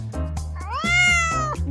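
A cat gives a single clear, drawn-out meow, close and loud, over a light backing tune.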